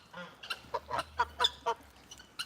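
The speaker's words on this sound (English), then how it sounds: "My beautiful goose lady." A domestic goose at an animal sanctuary honks in a rapid series of about eight short, nasal calls, close and fairly loud against a quiet background, with no talking.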